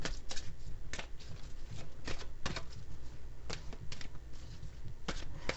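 A stiff deck of tarot cards being shuffled by hand, with repeated sharp riffling snaps at an irregular pace, close and clear with no talking.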